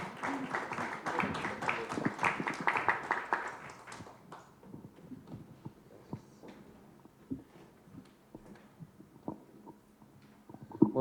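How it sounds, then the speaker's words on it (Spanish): Audience at a cybersecurity and data protection forum applauding, dense clapping for about four seconds that fades into scattered claps and quiet room noise. "Un aplauso, por favor."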